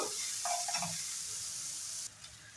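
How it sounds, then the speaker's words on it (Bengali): Steady sizzling of onion, garlic and green chili frying in a hot pan, with a brief scrape of stirring early on; the sizzle drops slightly toward the end. "পেঁয়াজ রসুন আর কাঁচা লঙ্কাটা লাল লাল করে ভেজে নেব"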